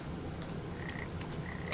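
Frogs in the video game Papo & Yo croak in short repeated calls, fairly faint, set against a dense, constant wash of ambient game sound.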